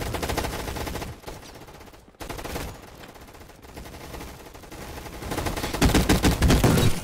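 Gunfire in the Roblox game Gunfight Arena: loud bursts of rapid automatic shots, broken by a couple of brief gaps, then a dense, heavier barrage of shots near the end.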